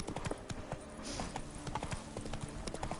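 Horse hooves clip-clopping in the video game Witcher 3, a steady rhythmic trot of close, crisp hoofbeats over a continuous background bed.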